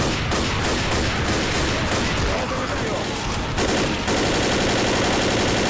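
Dense Left 4 Dead gunfire rattles continuously, with rapid bursts and shots blending into a loud, harsh barrage, and voices are heard faintly beneath it.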